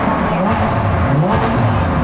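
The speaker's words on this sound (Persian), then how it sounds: "بچا خیلی صداش زیاده، بیش از حد صداش زیاده. لامبورگینیه دیگه" A Lamborghini's engine roars loudly at close range, a dense rumbling note that wavers up and down in short surges.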